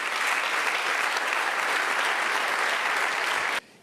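Sustained applause from a church congregation, dense and steady clapping for several seconds before cutting off abruptly near the end.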